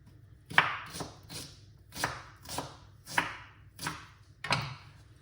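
Knife chopping fresh ginger on a cutting board, about eight crisp, close strokes at an uneven but steady pace, fairly quiet, with no voices.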